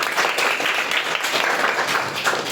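A dense, sustained round of audience applause fills a hall at a school prize distribution for a bronze-medal winner, the many hand claps merging into a steady roar with no talk over it.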